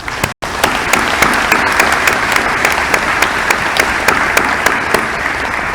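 Sustained applause from an audience at a university doctoral hooding ceremony, a dense, steady wash of clapping with a few sharper individual claps standing out, holding loud throughout after a brief dropout near the start.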